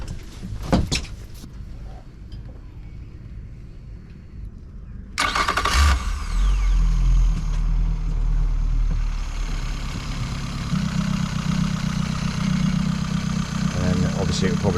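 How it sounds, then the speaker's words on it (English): A small fishing boat's engine cranks and starts on the water, then settles into a steady low rumbling idle that continues, with some talking underneath. "So we'll start the engine."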